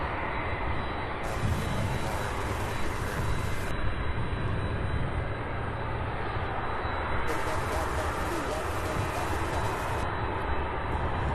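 An MD-11 at Louisville International Airport gives off a steady jet engine drone on the ramp during pushbacks, heard continuously from a distance.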